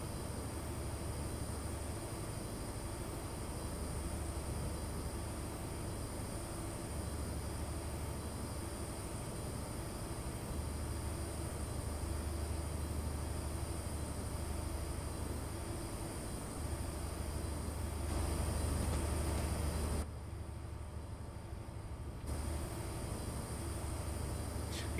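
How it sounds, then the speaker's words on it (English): Steady loud cab noise inside a train on the Midland Mainline in the Train Simulator PC game, heading towards Derby: a constant low rumble and hiss with a continuous drone, and no voices. "It is quite loud in the cab on the PC."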